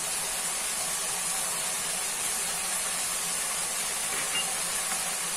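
Spices with turmeric, cumin and Kashmiri chilli fry in a pan as a steady, even sizzle and hiss, close and continuous with no talk.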